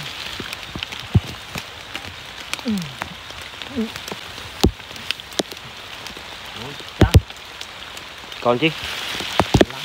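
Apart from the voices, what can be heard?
rain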